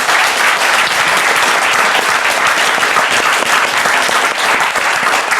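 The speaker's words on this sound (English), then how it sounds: "And a huge round of applause for our amazing panel." Audience at a comics convention panel breaking into loud, sustained applause, a steady dense wash of clapping throughout with no talk over it.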